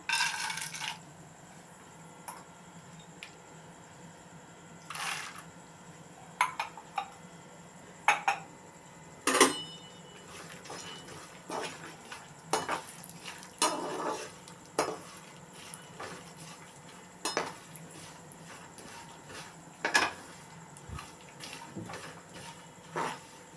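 Almonds frying in hot oil in a pan, a steady low sizzle running under repeated sharp scrapes and clinks of a spoon against the pan, fairly quiet and close, with no talking.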